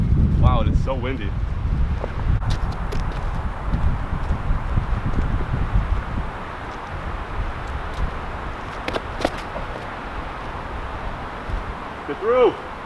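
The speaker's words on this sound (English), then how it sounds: "it is so windy" Strong wind buffets the microphone on a disc golf course, with heavy low rumbling gusts through the first half that ease off later. Brief voices are heard over it.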